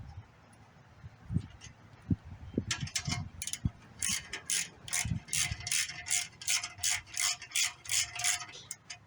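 Ratchet loosening bolts on a 2018 Wolf R x fifty motorcycle, starting with scattered clicks and settling into a close, steady run of short ratcheting bursts with brief pauses between strokes.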